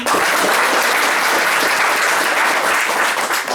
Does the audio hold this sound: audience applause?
yes